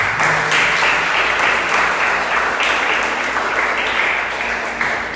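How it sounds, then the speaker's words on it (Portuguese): A church congregation gives a round of applause during a sermon: dense, sustained clapping that stays loud, then eases slightly toward the end. No voices rise above it. "Dê uma salva de palmas para Jesus."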